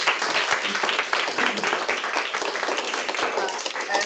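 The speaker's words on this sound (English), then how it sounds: "We give Kasha a round of applause" A room of attendees at a lunchtime learning session applauds steadily, a moderate wash of overlapping claps that stays even throughout with no voices.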